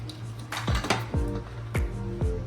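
A pressure cooker holding ghee rice gets its metal lid fitted and closed, giving several close, sharp clanks and clinks spaced unevenly over a couple of seconds with no talking.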